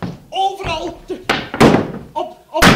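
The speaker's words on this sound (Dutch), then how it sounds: "op de vloer ga kloppen" Knocking on a wooden stage floor during a Flemish amateur theatre comedy: a few loud, sharp thuds land between stretches of people talking.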